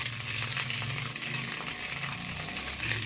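Carrots stirred around a hot frying pan, a constant sizzle of frying food with soft scraping stir strokes mixed in, close and moderately loud.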